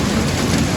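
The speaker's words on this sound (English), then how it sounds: "well, it appears I'm getting rained out here all of a sudden" A sudden outdoor rain shower, a dense, steady hiss of falling rain close by, brief and unbroken.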